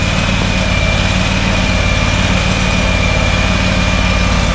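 A Scag Turf Tiger mower's 29 horsepower Kawasaki engine runs steadily at idle, a loud, continuous low rumble with a faint whine above it and no talk.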